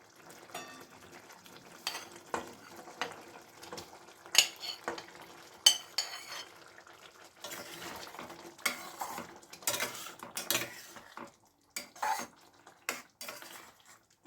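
Paneer goes into a pan with part-boiled carrot and cauliflower and gets stirred, making irregular scrapes and knocks of a utensil against the pan over a faint sizzle, close by and fairly quiet.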